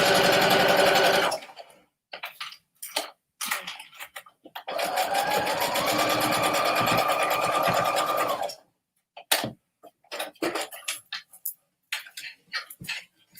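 Sewing machine running close and loud in short bursts and one longer steady run while stitching over paperclips, separated by gaps filled with clicks and handling noises.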